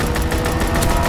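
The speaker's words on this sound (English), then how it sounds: "Fighter pilot inbound. Strafing the target." Rapid strafing machine-gun fire from a fighter plane in a WW2 video game, a dense continuous rattle of bursts filling the short stretch with engine noise beneath.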